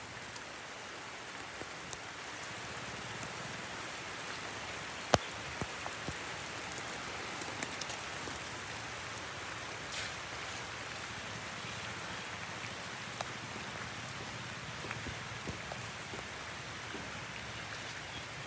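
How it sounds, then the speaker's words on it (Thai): Heavy rain pours steadily at an elephant sanctuary, a dense, constant hiss with scattered louder drips and taps on nearby surfaces, and no voices. "Oh, big rain come again."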